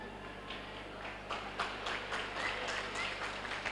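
An audience claps at a chess tournament prize distribution, the applause swelling after a quieter start into a steady patter of many hands, with some voices underneath.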